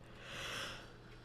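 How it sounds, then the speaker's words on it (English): A single long, breathy yawn, close and quiet, swelling in the middle and fading out, with no talking. "sorry about the yawning"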